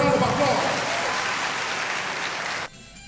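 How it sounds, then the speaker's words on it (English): A burst of applause from a crowd at the Egba Heritage Lisabi Festival, steady and fairly loud, then cutting off abruptly near the end. "Correct, for a round of applause."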